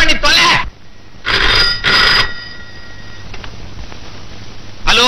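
A telephone rings loud and close in short repeated bursts with pauses between them, and a voice can be heard among the rings.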